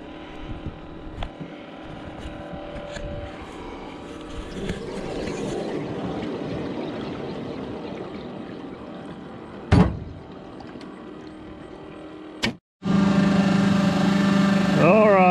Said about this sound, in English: See if this pump's gonna want to pump this morning.